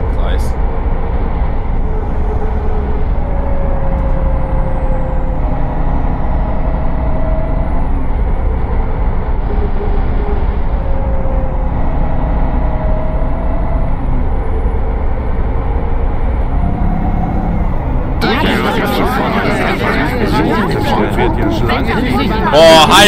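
Setra bus in the OMSI 2 simulator accelerating, its engine droning steadily with a faint whine beneath people talking, then a harsher burst of louder noise near the end.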